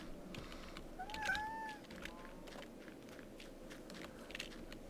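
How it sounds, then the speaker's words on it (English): A house cat makes a single faint, drawn-out meow in the background, heard once early on over low shuffling and clicking sounds, with no one talking. "Sorry if you can hear him meowing in the background."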